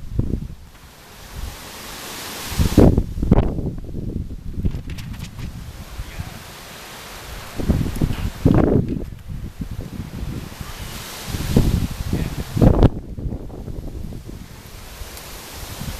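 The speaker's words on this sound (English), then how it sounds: "it is extremely windy here at Old Rock Field" Strong wind buffets the microphone at a baseball field in heavy, roaring gusts that rise and fall repeatedly, with no other clear sounds.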